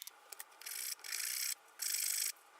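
Wood for an outdoor bench is shaped down to a line by hand with a rasp or file: a few quiet dry scrapes, then three longer raspy strokes with short pauses between, close and with no voices.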